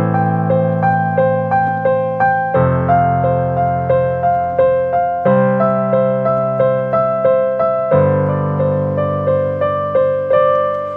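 Arpeggiated melody played on white keys only, rapid repeating plucked notes rolling over held bass chords that shift four times, clear and close with no voices.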